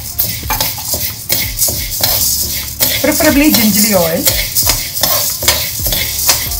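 Lentils and chillies being dry roasted for idli podi are stirred in a pan, with a spoon repeatedly scraping and clattering against the metal under a light sizzle while a voice speaks briefly.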